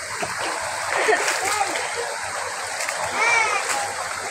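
Clear stream water rushes and splashes steadily along a forest path, a constant close wash with voices chattering faintly underneath.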